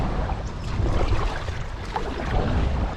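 Wind-blown water and a lightweight fishing kayak being paddled make steady broadband noise, with soft splashes and rustle under gusty wind against the microphone and no speech.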